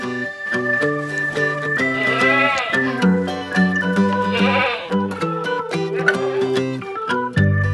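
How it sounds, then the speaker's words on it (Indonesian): Senduro Etawa goat bleating loudly and repeatedly during milking, its wavering, drawn-out calls filling the space close by. "Nah ini sekarang saya sama Pak Saiful waktunya untuk merah susu kambing Senduro"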